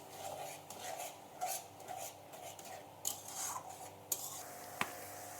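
Masala being stirred and sautéed with whisked yogurt in a pan for a poppy-seed puti fish curry: scraping and clinking of a spoon against metal in repeated strokes, with a couple of sharper knocks, close and fairly quiet.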